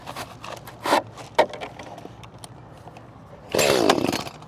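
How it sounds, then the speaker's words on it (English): An Echo CS 310 chainsaw gets a few sharp pull-cord tugs and clatters, then fires and roars into a loud, close burst of running engine for the final second. "Echo CS 310 chainsaw"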